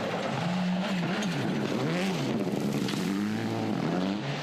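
Mazda rally car at speed on a gravel stage in Rally Otago, its engine note rising and falling steadily through gear changes, loud and continuous throughout.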